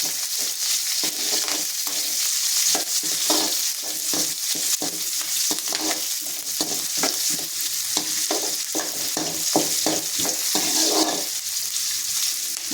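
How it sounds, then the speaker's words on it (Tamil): Onion, dried red chillies and curry leaves are sautéed in hot oil. A loud, steady frying crackle is broken by rhythmic scraping strokes of a spoon stirring the pan, close up and with no voices. "நம்ம வெங்காயம் காஞ்ச மிளகா கருவேப்பிலை எல்லாம் சேர்த்துக்கலாம் நல்லா வதக்கி விடணும்"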